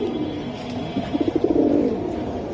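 Pigeons coo in a short run of soft rhythmic pulses, close by, against steady background noise, with no voices.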